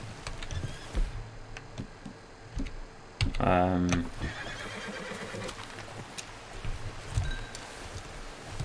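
In the video game Red Dead Redemption 2, a horse lets out a loud, close whinny lasting under a second, set amid outdoor ambience with faint clopping and ticks around it.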